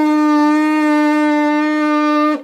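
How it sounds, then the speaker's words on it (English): Lips buzzing in a firm, flat brass trombone embouchure give a steady, loud, rich, reedy drone held for about two seconds, then cut off sharply. "you make a spitty, farty sound like this"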